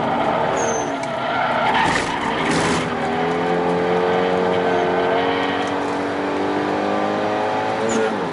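A Renault Megane RS 225 on worn-out tires slides through a corner at Istanbul Park, its tires skidding in a steady high squeal over a continuous, loud engine drone with shifting revs.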